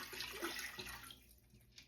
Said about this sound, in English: So I've got a pot here and I'm going to add in some water.